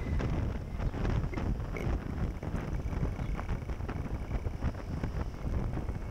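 Steady loud wind buffets the microphone while riding a Honda Sahara 300 motorcycle, a continuous rushing roar with gusty fluctuations throughout.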